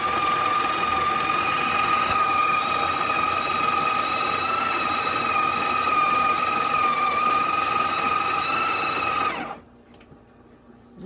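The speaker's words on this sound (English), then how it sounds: "The grinder is going to start taking in the beans and spitting them out into there." The built-in burr grinder of a Breville Barista Express espresso machine grinds coffee beans with a steady, loud whine for about nine seconds, then stops abruptly, leaving near silence.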